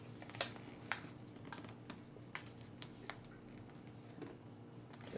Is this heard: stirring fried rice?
no